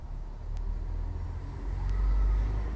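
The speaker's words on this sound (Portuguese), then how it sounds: "Agora vocês vão ouvir sons de carro transitando aqui na rua." Cars pass along a street in a steady, low, fairly quiet rumble that swells slightly toward the end, with two faint high ticks over it and no speech.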